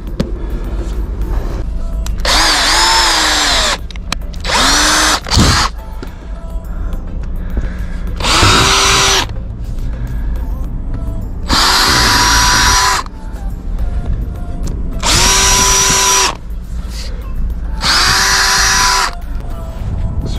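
A power drill whirs in repeated bursts of a few seconds each, about six runs separated by short pauses, loud and close, while setting up a boat mooring on a dock.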